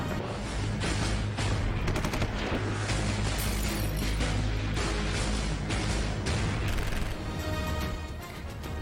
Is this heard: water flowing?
no